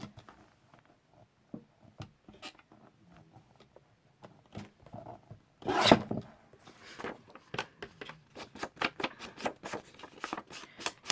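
Paper for a Christmas journal gets trimmed, with faint scattered snips and rustles at first, a sharp louder crunch near the middle, then a quick run of crisp cuts and paper handling.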